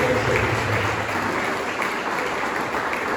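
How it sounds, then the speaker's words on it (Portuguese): A church congregation claps together at a service, a dense wash of many hands blending into continuous applause that holds steady throughout, with faint voices mixed in. "Então bate palmas alegres."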